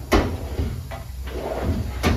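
A drawer on a Yukon mobile workbench, a steel tool chest on wheels, slides open with a short clunk near the start and another near the end. Fainter rattles fall between them over a steady low background hum.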